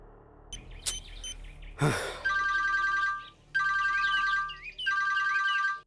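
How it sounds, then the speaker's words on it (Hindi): A telephone rings in repeated electronic trilling bursts, three rings following a sharp gasp-like sound, close and clear in a quiet room. "मामा, रिंग जा रहा है"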